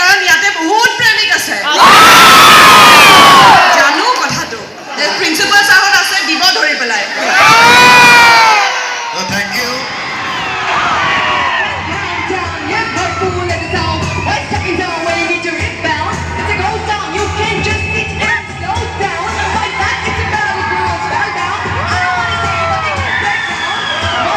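A large crowd at a promotional event for the film Ratnakar with actor Jatin Bora erupts in loud shouts and whoops, two sharp bursts followed by a sustained roar of cheering that stays dense and close.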